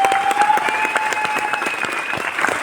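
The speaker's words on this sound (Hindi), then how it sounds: "ठोक लो ताली अपने लिए भी।" Audience at a success celebration event in Delhi applauds steadily, dense clapping sustained throughout at fairly close range, with a faint tone running underneath.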